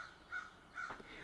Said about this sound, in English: listening to the singing of birds outside my bedroom window